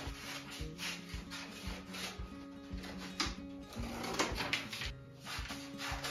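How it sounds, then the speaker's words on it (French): Scissors cut paper around a printed image for decoupage, making quiet, rhythmic snipping and rustling sounds close by with no speech. "Donc, ben, je vais découper un petit peu."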